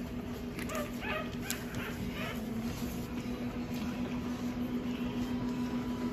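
Chocolate puppies whimper and yip softly in a few short, scattered bursts, faint and close, over a steady hum of background noise.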